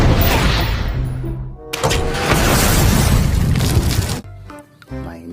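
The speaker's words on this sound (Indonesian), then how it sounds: "Tembakan AWM." A toy AWM sniper gun plays its gunshot sound effect: loud, harsh crackling electronic blasts lasting several seconds, then thinner tonal beeps as the effect winds down.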